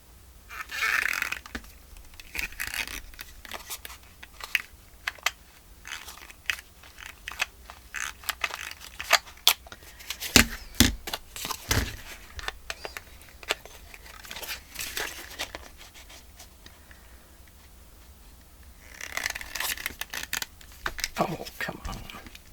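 Paper being cut with small scissors around a little circular hole for a woodland-themed party journal pocket, heard as a close run of quiet snips and crinkles with pauses between bursts.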